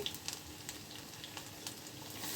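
Garlic hits hot oil in a pan while cooking potol chingri, giving a faint, continuous sizzle with small crackles and pops scattered throughout.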